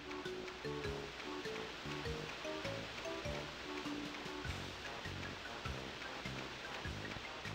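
Steady rushing water fills the background of Banjo-Kazooie gameplay, a constant wash of surf-like noise running under light, bouncy game music with no one speaking.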